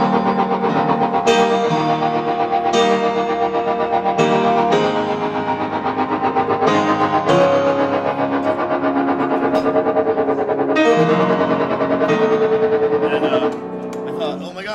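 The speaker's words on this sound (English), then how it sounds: "And then I added distortion." Piano chords are played through heavy distortion, each struck chord buzzing and sustaining thickly in a slow rhythm before fading near the end.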